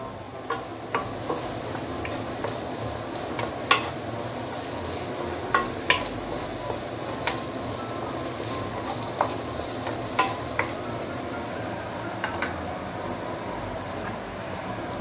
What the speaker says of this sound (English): Give it some nice stir.